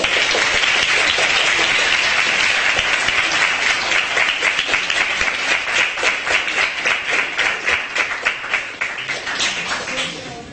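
Delegates at a model UN session applaud after a resolution passes, loud sustained clapping that gradually turns into rhythmic unison claps before fading near the end.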